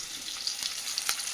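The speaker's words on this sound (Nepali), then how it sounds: "फर्स्टमा प्याज फ्राई गर्यो" Onions fry in hot oil in a pan, giving a close, steady crackling sizzle with a few sharper pops scattered through; no voices.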